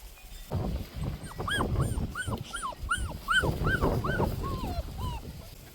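Several puppies whimper and yip in a rapid series of high, rising and falling cries, close by, with a low rumble of movement underneath, during a play date with cows.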